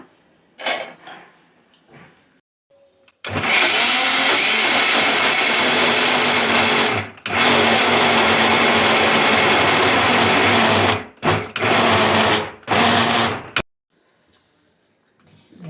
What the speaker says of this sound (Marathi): मी फिरून घेते मिक्सरला